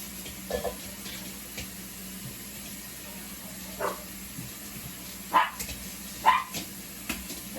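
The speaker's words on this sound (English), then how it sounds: "see why my dogs are barking so profusely" A few distant dog barks come in scattered bursts over a low background hum, with running water faintly audible in a kitchen.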